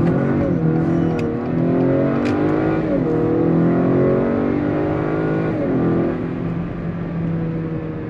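A 2021 Acura RDX AWD launches and accelerates hard, its engine note climbing steadily through the gears with brief dips at each upshift, loud and close throughout.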